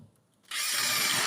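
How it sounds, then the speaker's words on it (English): A power drill bores into a wall during a CCTV camera installation, starting abruptly after a short near-silence and then grinding steadily and loudly at close range. "then before we can now start putting up our power drill"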